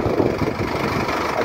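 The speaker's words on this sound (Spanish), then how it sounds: "Vean lo que va a tener que regresarse el tractor." A New Holland TS6.120 FWD tractor engine running steadily in a field, a close, constant low rumbling drone with no talk.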